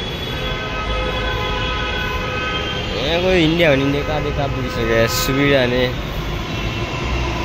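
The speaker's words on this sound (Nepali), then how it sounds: "हामी म जाने मेट्रो पनि आइसक्यो।" A metro train arrives at a station in India with a steady rumbling roar. A few short, wavering horn or brake tones sound midway. People talk over the noise.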